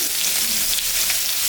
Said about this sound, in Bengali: পেঁয়াজটা দিয়ে দিলাম,